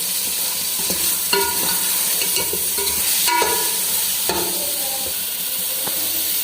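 Washed, cut potatoes are stirred into fenugreek frying in a pan for an aloo methi curry, giving a steady sizzle with repeated scraping and clinking stir strokes close up, no talking.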